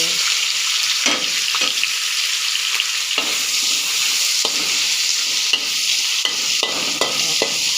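Garlic stir-frying in hot oil ahead of broccoli and bacon: a steady, loud sizzle with scattered scraping strokes of a spatula against the pan, no voices.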